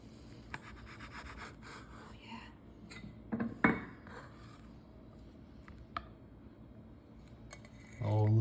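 A knife cutting into a pan of jalapeno cornbread, with soft scraping and rasping strokes, a few clinks against the dish, and quiet talk at the end.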